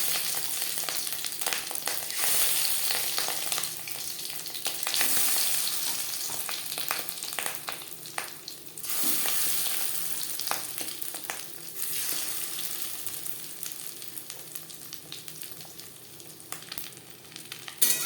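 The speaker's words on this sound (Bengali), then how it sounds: "3 চামচ রিফাইন্ড অয়েল গরম করে নিয়েছি। এবার দিয়ে দেবো ম্যারিনেট করে রাখা ডিম।" Marinated fish roe fries in hot refined oil with a steady, loud sizzle and crackle, occasional sharper pops and stirring scrapes, and no talking.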